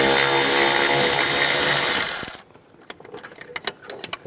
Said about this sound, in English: We're going to take those out. Use the 10mm socket.